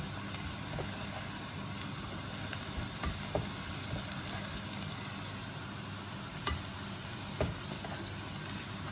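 Onions fry in a pan for aloo gosht with a steady, fairly faint sizzle. Occasional scrapes and taps come through as they are stirred.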